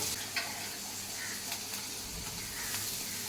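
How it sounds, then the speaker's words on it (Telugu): Finely chopped onion, green chili and ginger pieces fry in a pan for gunta ponganalu, giving a steady, soft sizzle with a faint stirring scrape. "ఇది ఫుల్గా వేగాల్సిన అవసరం లేదు ఒక ఫిఫ్టీ పర్సెంట్ వేగితే సరిపోతుంది"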